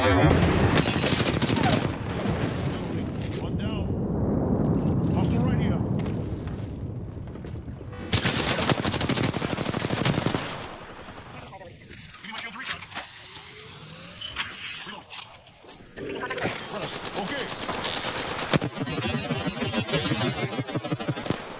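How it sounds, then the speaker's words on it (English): Airstrike explosions in a Rainbow Six Siege style destruction match: loud bursts of blasts and rapid gunfire, heaviest at the start and again near the end, with quieter rumbling debris in between. "Heads up, we got an airstrike on us."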